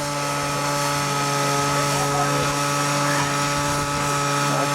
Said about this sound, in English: There's this 2-stroke motor.